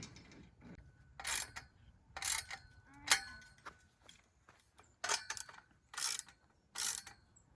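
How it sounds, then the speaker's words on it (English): A wrench tightens bolts on a frame, giving repeated sharp ratcheting clicks in short bursts with pauses between them. The sound is quiet and fairly close, with faint background noise. "Just get a wrench and tighten it."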